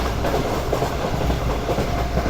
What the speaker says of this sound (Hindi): जी दोस्तों तो ये सैजोवाल से निकली है ट्रेन